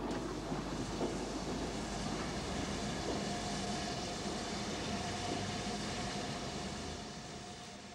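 A Henschel steam tank locomotive working a train on the Porto Trindade line in 1962 gives a steady, distant rumble of rolling stock, fairly faint and continuous, fading slightly at the end.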